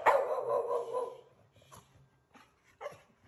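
A dog gives a loud, close bark that trails into a whine, then two short, fainter yips follow after a pause.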